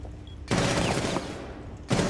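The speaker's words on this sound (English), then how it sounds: "One's across the way, shooting through windows." Rainbow Six Siege gunfire rattles through windows in two dense automatic bursts, the first long and sustained, the second starting just before the end, loud and close over quiet game ambience.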